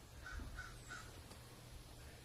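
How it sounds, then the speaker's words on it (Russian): A crow outdoors gives three quick caws in a row, faint and distant, followed by quiet background hiss. "we will be like that crazy crow outside, making noise all the time."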